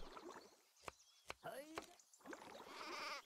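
Sheep bleating in the video game Craft the World, a few short wavering bleats among game clicks and taps, with a voice talking over them.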